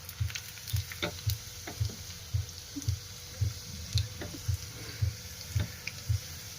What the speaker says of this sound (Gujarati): વઘાર આવે છે. હવે લસણ નાખશું.